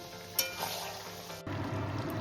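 Mutton frying for a curry while being stirred in the pan gives a soft, steady sizzle, with a light scrape near the start and a fuller hiss of frying taking over midway, fairly quiet throughout.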